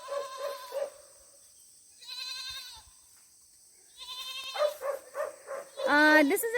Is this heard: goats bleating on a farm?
yes